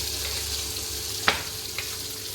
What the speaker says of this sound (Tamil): பெரிய வெங்காயமும் சின்ன வெங்காயமும், இதை வந்து இந்த ஆயிலில் போட்டு நல்லா ஃப்ரை பண்ணலாம்